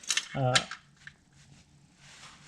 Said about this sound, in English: just tighten this drain plug a little bit